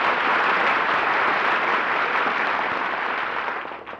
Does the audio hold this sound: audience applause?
yes